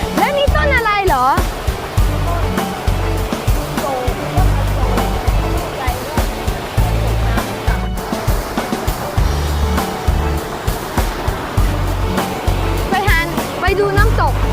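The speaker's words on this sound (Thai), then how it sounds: "ไปดูน้ำตก" Vipavadee waterfall in Surat Thani roars in a steady broadband rush of falling water, close and loud throughout, with people talking over it in a few spots.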